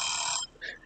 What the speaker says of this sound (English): There's the alarm that went off.